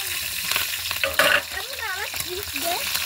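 Potatoes fry in a pan with a loud, continuous sizzle and stirring clatter, while children's and adults' voices chatter faintly nearby.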